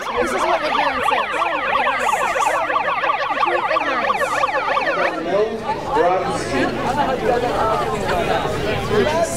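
Wailing siren at a city council meeting, its sweeping up-and-down tone repeating loudly, close by, for several seconds before shifting to a rougher warble, with people chattering underneath.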